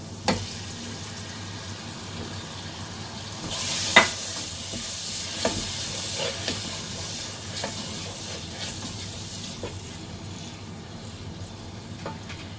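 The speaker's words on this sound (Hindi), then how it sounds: "हल्की आंच पे हम अपने मसाले को भूनेंगे" Masala of tomato and green chili fries in oil over low heat for urad dal, a soft continuous sizzle punctuated by scraping stirs and occasional clinks of a spoon against the pan, with no talking.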